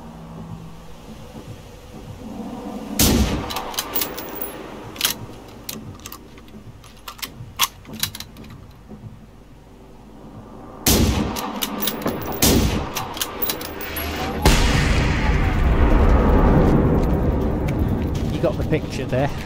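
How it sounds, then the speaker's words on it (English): A rocket launcher fires during a battle on an airfield in the game Generation Zero, with loud sharp blasts and booming impacts among rattling gunfire, building to a sustained roaring explosion near the end. "it's not a railgun, it's a rocket launcher"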